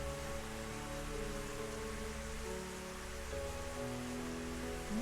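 Steady rain in Higurashi: Kageboushi, a constant hiss of falling water beneath a soft, sustained musical tone, heard alone without voices.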